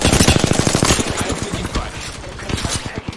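Rapid automatic gunfire in the video game Apex Legends, with dense bursts of close shots fired in quick succession, then a few more scattered shots, under faint voices.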